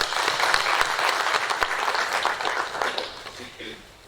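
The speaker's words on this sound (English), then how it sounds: "Can you please give them a round of applause?" Audience applause at a World Tourism Day symposium, steady dense clapping throughout that tapers off near the end.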